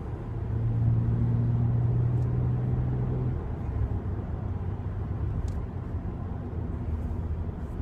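BMW E90 with a manual gearbox downshifting from fifth to fourth, heard as a steady, loud low engine drone and road rumble whose pitch steps down partway through, without talk.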